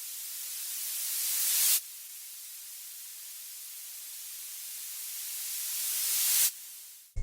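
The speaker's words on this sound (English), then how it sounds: "He could also hear a static type of sound which sounded similar to this." Steady, loud static hiss fills the stretch, swelling in intensity before cutting off abruptly twice, then fading to a near stop at the end; no voices are present.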